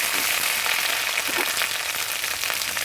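Onions frying in oil for a Bengali tel koi fish curry, a steady, dense crackling sizzle that stays even and fairly close throughout, with no voices.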